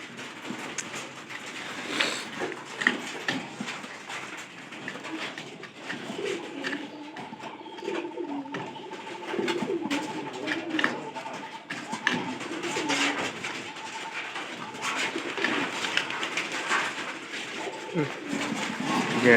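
Domestic pigeons cooing softly in repeated low murmurs beneath people talking nearby, with a faint distant hum in the background.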